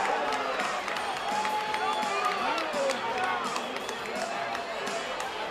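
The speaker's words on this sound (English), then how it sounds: "And the crowd loves it." A minor league baseball crowd murmurs and cheers steadily throughout a lengthy argument with the umpires during a championship series game, with scattered claps in the background and people talking over it.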